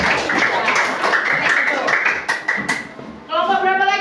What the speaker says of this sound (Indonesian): kasih aplaus kelompok 1